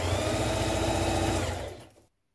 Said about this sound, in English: from the right side, top stitch around it